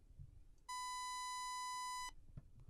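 A single steady electronic beep tone, generated in Pro Tools, sounds for about a second and a half, clean and buzzy-bright with strong harmonics. It starts and stops abruptly over near silence.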